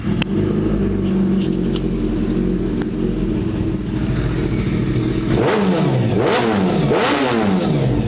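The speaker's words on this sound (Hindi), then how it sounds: "ये रहने वाली है कावासाकी की ZX 10R, वो भी SC प्रोजेक्ट के एग्जॉस्ट के साथ।" A 2014 Kawasaki ZX-10R superbike fitted with an SC Project exhaust revs hard nearby, loud and continuous, with sharp rising and falling throttle blips toward the end.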